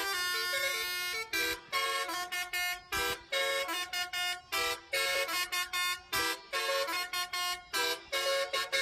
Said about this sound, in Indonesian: terdengar alunan klakson telolet dari salah satu bus yang parkir.